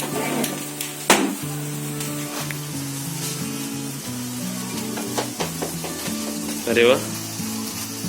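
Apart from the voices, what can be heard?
sparkler fire candle fizzing on celebration cake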